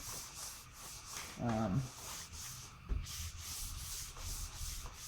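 Steady back-and-forth rubbing of sandpaper on a wood table, a rhythmic scratchy hiss repeating several times, with a brief clunk midway.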